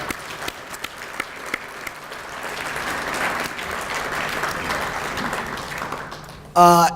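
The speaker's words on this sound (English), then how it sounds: "So I just want to give a big round of applause to all of you" Sustained round of applause from a dinner audience at a chamber of commerce awards night, steady broadband clapping lasting several seconds, ending with a brief loud burst.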